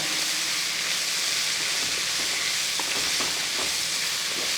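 Ash gourd dish being stirred in a frying pan, a steady broadband sizzle and hiss of frying with a few soft scraping stirs standing out near the middle, close and continuous with no voices.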